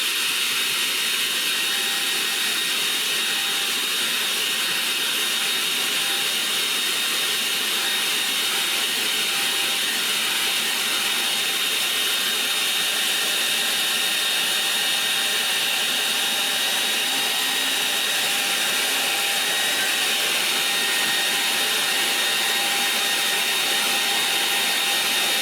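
A hair dryer blows steadily on a watercolour painting of trees and grasses, a loud, constant whooshing hiss that runs unbroken for the whole stretch with no talking.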